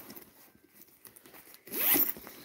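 A zipper on a purse is pulled in one quick, close rasping stroke near the end, after a few seconds of soft handling rustles.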